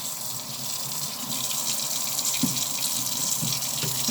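Water runs steadily from a kitchen tap while dishwasher parts are rinsed under it, a close, constant splashing hiss with a few faint clinks of parts.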